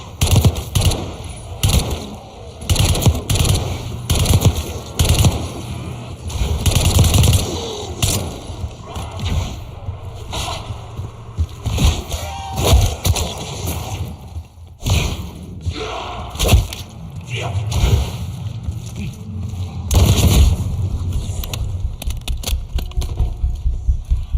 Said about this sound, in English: Gunfire? Yeah, sounds like it's coming from one of the lower floors.